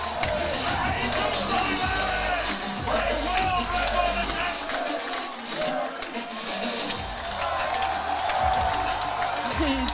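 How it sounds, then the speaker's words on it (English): A powerlifting meet crowd chants and cheers for the lifter, a loud, roomy mass of voices with yells and whoops rising and falling, while a commentator talks over it. "Here it comes, and the crowd chants Jesus."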